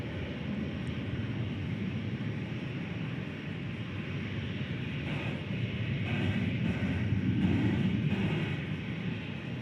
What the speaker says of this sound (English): And this one is a 20th century aircraft.